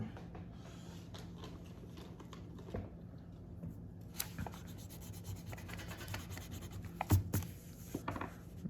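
An eraser rubs back and forth on paper at a drawing desk, faint, close scratchy strokes with a few light taps and clicks, quiet and intermittent.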